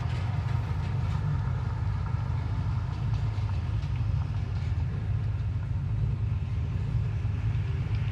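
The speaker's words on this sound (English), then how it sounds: "Got a car coming." A car rumbles past close by a 1961 Chevrolet Bel Air, a steady low-frequency roar with engine drone throughout and no voices.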